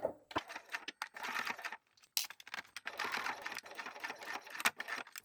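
A sewing machine stitches a bag seam up to the fold, running in short, quick bursts with brief pauses between them, close and moderately loud.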